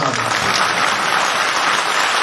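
Audience applause at a comedy poetry show, a dense, loud, steady wash of clapping from a large crowd filling the whole stretch.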